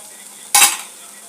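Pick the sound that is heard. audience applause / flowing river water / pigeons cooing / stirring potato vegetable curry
stirring potato vegetable curry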